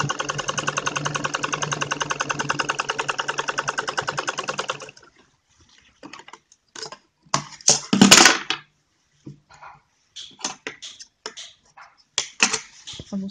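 A sewing machine stitches a back zip into a kurti, running fast and steady for about five seconds before stopping, then scattered clicks and handling knocks follow. No one speaks.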